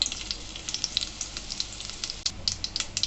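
Fenugreek seeds, dried chilies and curry leaves frying in hot oil give a steady crackling sizzle with scattered sharp pops throughout, close and moderately loud, with no voices.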